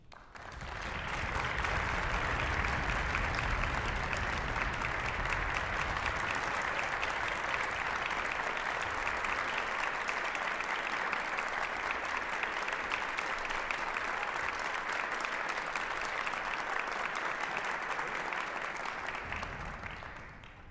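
Sustained audience applause at a string orchestra concert welcoming a composer, a dense even clapping that swells in quickly, holds steady and loud for about twenty seconds, then tapers at the end.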